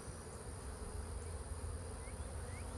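Honey bees at an apiary hive during a split inspection, a steady dense buzzing drone of many insects close by, continuous with no talking.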